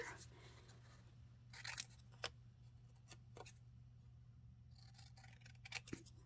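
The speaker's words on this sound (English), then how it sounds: "Let's just cut this out of this paper right here." Scissors snip a vintage photo out of paper, quiet crisp cuts arriving in irregular bursts over a low steady hum, close and alone.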